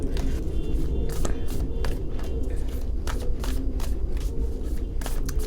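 Tarot cards are shuffled in a long run of soft, rapid riffling and flicking, close to the microphone over steady background noise.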